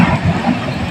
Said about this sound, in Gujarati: આપણા ચેનલમાં ફર્સ્ટ ટાઈમ રેલવે આવે છે